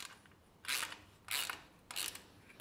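A Bow Buddy rock guard mount being tightened gives three short bursts of ratcheting clicks, each under a second, spaced evenly and heard close and alone against a quiet background.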